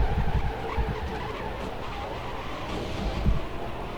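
A stock race car in a 2004 MG Cup Series race at Richmond skids and slams into the wall, tires scrubbing and engine droning loudly, with a heavy thump of impact near the end.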